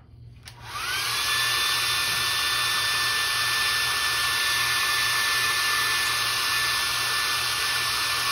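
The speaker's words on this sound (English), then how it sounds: "I am gonna heat set this." A heat gun starts with a click and then blows a steady, loud whooshing roar with a constant whine as it heat-sets paint on a custom crankbait lure, running unbroken for several seconds.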